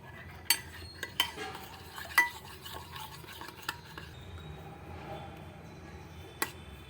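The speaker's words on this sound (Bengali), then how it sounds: "সর্ষের তেল দিয়ে দিচ্ছি, ভালো করে ফেটিয়ে নিচ্ছি" Mustard oil marinade whisked in a bowl for vapa vetki, with sharp metal clinks and taps scattered over a soft scraping swirl, close and fairly quiet.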